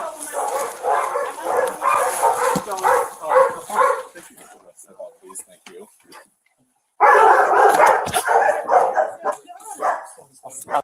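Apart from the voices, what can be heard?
dogs barking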